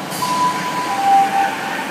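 A Class 153 diesel train pulls into Lincoln Central station from Newark, with a steady, fairly loud rumble and faint thin wheel-squeal tones over it.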